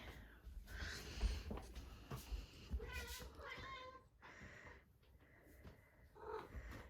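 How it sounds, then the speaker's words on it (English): A pet cat meows several times at close range during a household nighttime routine, the cries rising and falling amid background noise and occasional voices. "Kitty."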